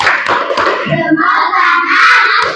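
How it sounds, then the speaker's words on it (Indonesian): A classroom of students does a rhythmic thumbs clap, quick patterned claps from a group with a few voices mixed in, close and fairly loud. "Oke, kita kasih tepuk jempol."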